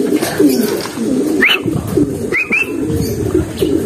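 Pigeons coo softly and repeatedly at close range, with a couple of brief chirps cutting in partway through.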